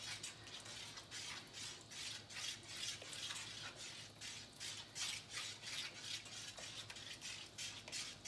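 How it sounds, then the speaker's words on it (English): A whisk works cheese sauce for keto cauliflower mac and cheese in a pot, a faint, steady rhythmic scraping and swishing of metal against the pan, repeating about every half second. "start whisking that cheese around"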